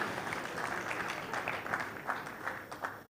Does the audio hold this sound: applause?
yes